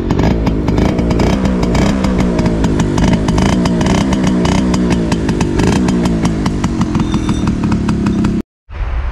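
A Suzuki RC100 Bravo two-stroke motorcycle engine runs steadily with a raspy, buzzing, rattly idle, loud and close, holding constant for several seconds before briefly cutting out near the end.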